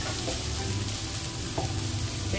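Vegetables for chicken vegetable fried rice frying in a hot pan, a dense, steady sizzle heard up close with occasional soft scraping stirs and no talking.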